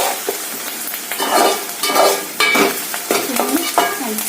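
Egg bhurji masala frying and being stirred in a pan, a loud close sizzle with scraping spoon strokes against the pan repeating every second or so, no voices.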